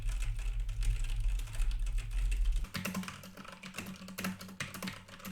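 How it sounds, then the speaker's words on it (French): Computer keyboard typing picked up by a Blue Yeti X microphone, a steady run of quick clicking keystrokes, fairly close, with a low hum under the first half that drops away midway. "un test de frappe au clavier permet de tester la résistance au brurax de celui-ci"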